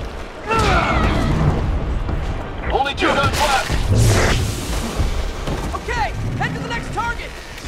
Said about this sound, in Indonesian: Ini bakalan meledak nih